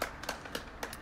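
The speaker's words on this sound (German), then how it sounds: "Der klatscht da hinten wieder." A father claps his hands somewhere in the background, a few faint, sharp claps spaced irregularly across a quiet moment.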